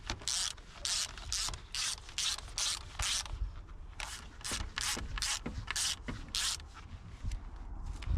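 Rapid bursts of ratcheting on an abandoned Lamborghini as parts are tightened, a series of close, raspy clicking strokes in quick groups with brief pauses, some scraping and handling noise between them.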